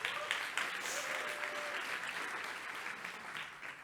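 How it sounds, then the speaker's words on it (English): A conference audience gives a round of applause in a presentation hall, the clapping moderately distant and steady, tapering off gradually. "So big claps for Omar."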